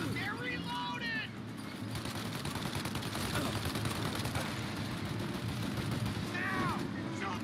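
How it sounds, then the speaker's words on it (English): Rapid sustained gunfire from a mounted gun in Mafia: Definitive Edition, a dense continuous rattle of shots filling the whole stretch, with a voice shouting briefly at the start and end. "Shoot out their gun when there's a break in the fire!"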